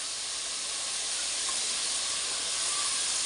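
Eggplant pieces fry in a pan with onion and soaked chana dal, giving a steady, loud, close sizzling hiss that holds evenly throughout with no speech.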